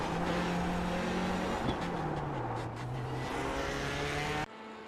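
Race car engine in the Le Mans Ultimate / iRacing sim racing game, a loud steady drone with pitch shifting through gear changes, filling the clip until it cuts off near the end.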